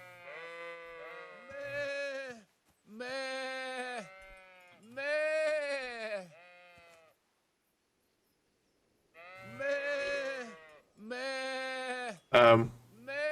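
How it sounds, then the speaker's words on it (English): Sheep bleat repeatedly in long, wavering calls in the video game Kingdom Come: Deliverance, several in a row, then a pause, then more bleating, fairly clear and close with a brief sharp noise near the end. "We're going around a sheep field, barring like sheep."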